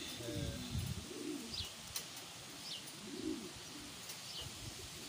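Pigeons at a breeder's loft coo in low, repeated rolling calls, several birds overlapping at close range, with faint chirps and a quiet background.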